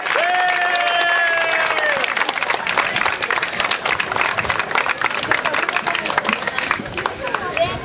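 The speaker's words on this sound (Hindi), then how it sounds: "नहीं, हमें इससे भी जोरदार तालियां चाहिए." An audience at a tree plantation campaign event with children gives a guest loud, sustained applause, with crowd chatter and an amplified voice briefly over the clapping at the start.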